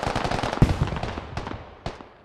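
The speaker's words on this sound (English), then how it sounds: "Grenade." Gunfire and a grenade blast in a tactical military shooter game: a rapid rattle of shots, then a sharp heavy explosion, followed by scattered single cracks and another loud burst fading off.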